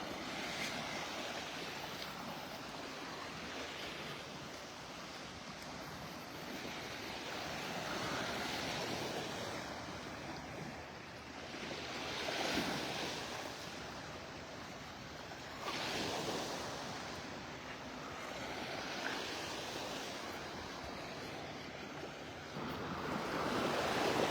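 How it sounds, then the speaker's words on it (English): Ocean waves roll in and break on a sandy Gulf beach at Delnor-Wiggins in North Naples, Florida, with the tide coming in; steady surf wash swells and recedes in repeated surges, mixed with some wind noise on the microphone and no talking. "Let you listen to the sounds of the waves here."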